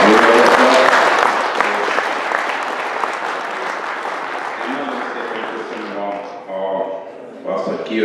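Loud crowd applause at the 2017 Junior Cup competitor presentation starts strong, then fades gradually as clapping thins out near the end.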